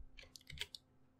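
A few quick, quiet keystrokes on a computer keyboard while code is being typed, light clicks bunched within about a second.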